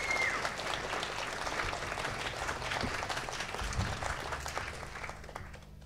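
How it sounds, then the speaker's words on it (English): Audience applause at a college music performance, a dense, steady patter of clapping that holds for several seconds before tapering slightly near the end. "give him a big round of applause for that one"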